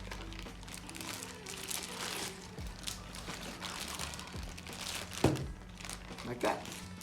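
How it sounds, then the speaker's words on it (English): A plastic zip bag is handled, crinkling and rustling close by, with a couple of sharper scrapes as it is zipped shut, while a person talks throughout. "you just put it in the plastic bag and zip it up"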